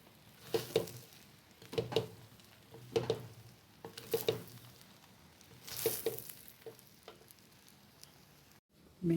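Seafood bihon noodles being stirred and tossed in a frying pan, giving soft sizzling with periodic scraping pushes that come roughly every second, with no talking.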